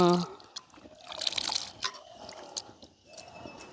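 Flattened rice (aval) being washed by hand in water in a village kitchen, with splashing, dripping and squishing sounds in irregular bursts, close and moderately loud.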